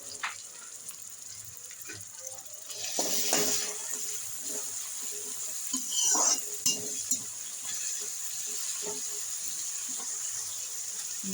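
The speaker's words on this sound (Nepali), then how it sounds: "अदुवा र यो प्याजको पत्ता पनि मैले एकछिनमा मिसा हालिहालेको छु। एकैचोटि फ्राई गर्नुपर्छ।" Ginger and spring onion greens are stir-fried in a pan for whole wheat noodles. A faint hiss runs throughout, broken by a few louder scrapes and clatters of utensil on metal.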